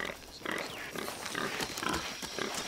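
Pig in a video game grunts repeatedly in short, rough bursts, close and fairly loud, with irregular spacing across the clip and no talking.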